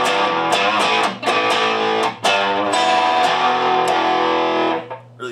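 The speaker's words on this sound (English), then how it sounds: "Channel 2, the vintage distortion channel." Distorted electric guitar chords strummed loud and gritty through a Mesa Boogie Nomad 100 2x12 combo amp on its vintage distortion channel, several rhythmic hits ringing out before fading at the end.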